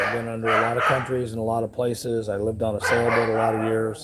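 Dogs bark at someone on a property in the Philippines, their barks mixed under a man's steady, close conversational talk that runs throughout.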